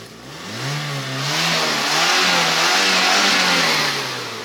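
A Chery Eastar car engine revs up, climbing in pitch and loudness, holds high for a couple of seconds, then eases back down; close and loud.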